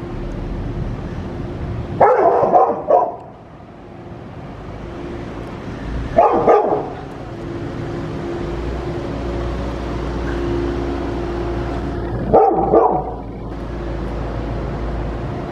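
A dog barks in three separate short bursts spaced several seconds apart, loud and fairly close, with quieter background noise between them and no speech.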